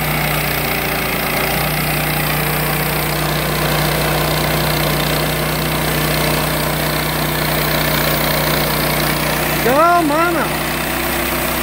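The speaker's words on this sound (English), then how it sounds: "here goes Stacey. Milling her first log" An engine-driven sawmill runs with a steady, close mechanical drone as a log is milled into outhouse siding, and a brief voice calls out near the end.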